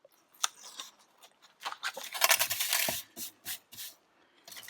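Scissors snipping through black paper pieces for a handmade card, a quick run of crisp close cuts with brief pauses between, no talking.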